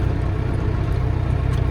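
A tractor engine idles steadily in deep snow, a low even rumble with a regular chugging pulse, close and continuous, with no talking.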